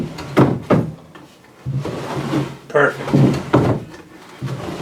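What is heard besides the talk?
wooden log drawer sliding out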